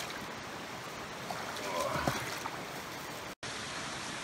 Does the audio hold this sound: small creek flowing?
yes